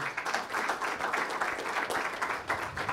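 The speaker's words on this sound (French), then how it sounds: "Je pense qu'on peut applaudir." Attendees at a running-speed training talk applaud in a close, steady patter of clapping that pulses slightly, with no voices standing out.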